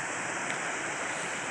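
Fast water on the Freeman River rushes in a steady, loud, close roar, a broad continuous wash with no voices.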